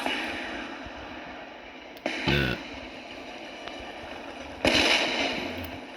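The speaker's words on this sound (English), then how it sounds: "So the canister shot is now starting." Canister shot artillery fires in the Total War game Austerlitz battle, with two sharp bursts of cannon fire over a constant hiss of battlefield ambience, loud and fairly close, with no talking.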